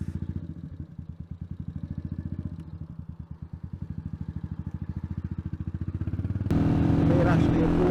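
A Royal Enfield Meteor 350 motorcycle thumps steadily as it is ridden on a sunny day, its single-cylinder engine pulsing rhythmically throughout, growing louder and rougher near the end as wind and revs build.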